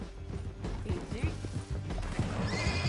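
A horse in the Red Dead Redemption 2 video game whinnies amid clip-clopping hooves and game ambience, a brief close neigh over steady background noise.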